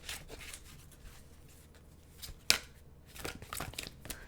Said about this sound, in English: These cards are really hard for me to shuffle.